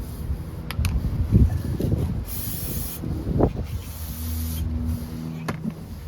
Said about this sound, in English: Some red and tacky spray grease.